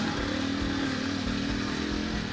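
A KTM 500 EXC dirt bike engine runs steadily on a desert single track near Marana, Arizona, a loud, continuous buzzing drone close by with a slight throb, heard on its own without any talking.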